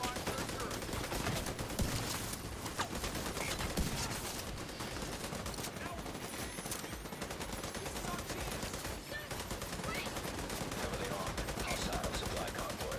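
A heavy gunner enemy in The Division 2 fires a machine gun, with sustained loud, dense automatic gunfire and overlapping bursts throughout, alongside other game noise and some talk.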